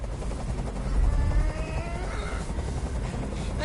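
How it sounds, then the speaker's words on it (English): Helicopter in the Detroit: Become Human video game, a loud steady rotor throb with low pulsing chop that holds throughout, with faint overlapping game effects and no speech. "I can't stand that noise anymore! Tell that helicopter to get out of here!"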